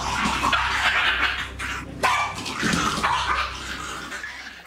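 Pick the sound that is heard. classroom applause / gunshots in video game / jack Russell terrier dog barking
jack Russell terrier dog barking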